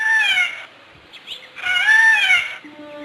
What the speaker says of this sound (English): a pair of peacocks whose raucous squawks make them as effective guards as the farm geese